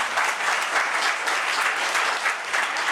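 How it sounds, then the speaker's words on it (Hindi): A church congregation claps for Jesus in loud, sustained applause, many hands beating at once in a dense, continuous patter with no voices standing out. "ताली बजा दे यीशु के लिए।"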